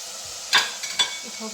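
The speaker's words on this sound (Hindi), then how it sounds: "अब हमने अदरक लहसुन का पेस्ट डाला है और खूब भूनना है" Minced meat (keema) fries with ginger-garlic paste in a pan, two quick spoon scrapes over a faint sizzle, brief and close.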